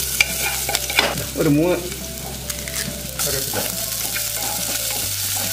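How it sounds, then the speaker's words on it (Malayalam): Shallots sizzling in hot coconut oil in a pan, a steady bright hiss with stirring and scraping sounds, close and fairly loud, with a brief word or two of talk early on. "ഓക്കെ, ചെറിയ ഉള്ളി ഇട്ട് കൊടുത്തിട്ടുണ്ട്."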